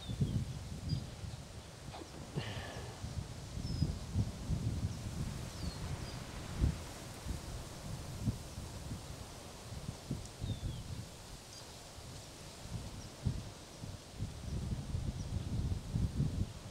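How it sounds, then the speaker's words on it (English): Wind blows steadily outdoors at a winery during an open-air painting session, a low rumbling gusty roar with a few faint bird calls above it and no talking. "Got a little windy here."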